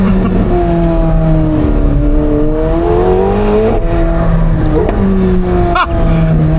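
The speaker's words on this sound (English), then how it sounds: "The pops and bangs like whips." A McLaren 750S twin-turbo V8 runs loud and close, engine pitch sweeping up and down through shifts, with sharp pops and a crack near the end as it downshifts.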